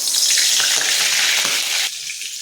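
Butter sizzles in a hot oiled pan, a loud, close crackling hiss that drops to a softer sizzle near the end.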